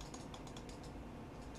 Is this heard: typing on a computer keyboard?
yes